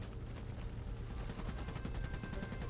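Continuous rapid gunfire fills a battle in the video game Iron Harvest, a steady stream of close, evenly spaced shots that holds at an even loudness throughout.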